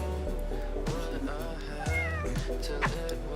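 A cat meows several times close by, drawn-out and complaining, with a low hum underneath.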